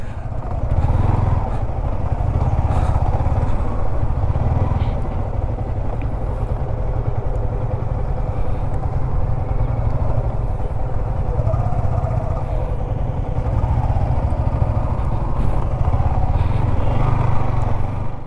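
A motorcycle rides along the coastal Marine Drive near Cox's Bazar toward Shahparir Dwip, its engine a steady close drone mixed with wind rush throughout, with no clear talking.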